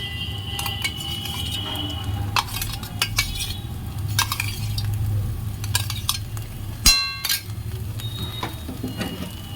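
Mashed fried shrimp and onion stirred in a pan, with steady spatula scraping, metallic clinks and a faint sizzle running throughout, close up and without speech.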